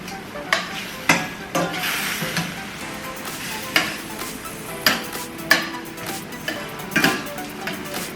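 Asparagus frying in butter in a covered pan, a steady close sizzle punctuated by a series of sharp clicks and taps as the spears are turned and utensils touch the pan.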